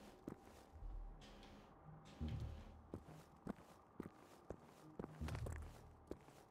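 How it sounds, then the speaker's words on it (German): Footsteps in the video game Generation Zero thud at a steady walking pace inside a dark bunker, soft muffled impacts with a few sharper clicks over a low ambient hum. "Wahrscheinlich waren es nur meine eigenen Schritte."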